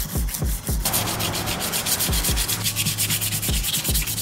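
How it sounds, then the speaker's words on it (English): A K24 valve cover is sanded by hand with 180-grit paper in quick, rhythmic rubbing strokes, close and steady, with no talking. "I'm gonna go hit it with 180 grit, then smoothing it out with 100"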